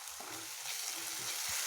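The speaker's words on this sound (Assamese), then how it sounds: "আদা আৰু বগা ৰচুনৰ স্মেল নোহোৱালৈকে আমি ইয়াক ভালদৰে ভাজি ল'ম।" Ginger and garlic paste fries with onions in hot oil, giving a continuous bright sizzle with a few soft stirring knocks underneath, close and fairly quiet.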